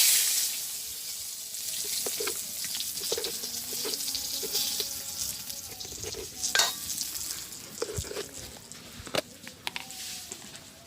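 Bay leaves sizzle and crackle steadily in hot oil in a wok, with scattered pops and clinks of stirring, close and fairly loud.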